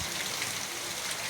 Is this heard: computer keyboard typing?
no